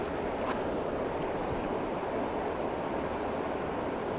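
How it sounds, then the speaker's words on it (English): Wind gusting over a small stream while fly fishing for cutthroat trout, a steady, fairly loud rushing roar that buffets the microphone and carries no speech. "Oh, there's that wind."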